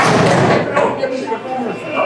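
A bowling ball crashes into string pins on a spare attempt, a loud, dense clatter at the start that fades over a couple of seconds, with voices talking over it.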